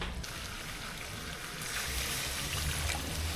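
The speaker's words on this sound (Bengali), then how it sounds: "মুরগির গোশ কষানোর জন্য এবার সামান্য একটু পানি দিয়ে দেব" A small splash of water goes into a pan of fried chicken for a coriander chicken curry, a steady watery hiss and trickle running throughout, growing a little louder toward the end, with no talking.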